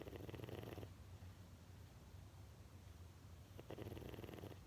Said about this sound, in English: I guess we'll have to do this where he's sleeping and snoring in the background